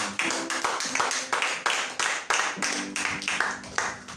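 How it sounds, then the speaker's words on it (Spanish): A church congregation claps in a steady rhythmic beat, roughly three claps per second, loud and close throughout, with faint voices underneath. "Denle un aplauso al Señor."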